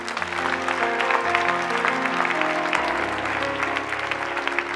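A church congregation at a French-language seminar claps and cheers for Jesus, a dense, steady wash of applause that fills the room for several seconds over sustained low organ or keyboard tones.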